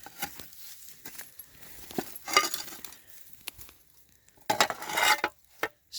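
Antique china teapot pieces clink and scrape as they are dug out of the ground at an old 1900s munitions plant site, with scattered close, sharp taps and rustles separated by short pauses.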